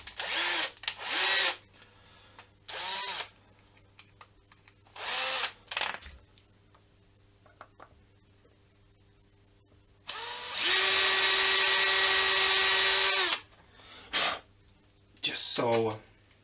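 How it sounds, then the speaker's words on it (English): A power drill re-drills a hole in a handmade guitar body while hardware is fitted, with short bursts of whirring and one longer steady run, close by and alternating with quiet talk. "I'm gonna re-drill that hole."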